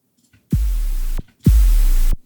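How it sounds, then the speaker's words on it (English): White noise layered over a sine-wave kick with a pitch envelope in electronic music production, heard as two loud, identical bursts of hiss about 0.7 seconds each, separated by short silence, with a deep thump starting each burst. "I'm adding more noise on top"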